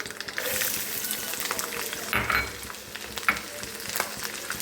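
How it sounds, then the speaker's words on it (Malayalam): Mustard seeds crackling in hot mustard oil for a country-style mango pickle, a dense close sizzle with sharp pops and a few stirring scrapes, no speech. "കടുകെണ്ണയിലേക്ക് കടുക് ഇട്ടിട്ടുണ്ട് എന്തോ കടുക് പൊട്ടിപ്പിടിച്ചിരിക്കുകയാണ്"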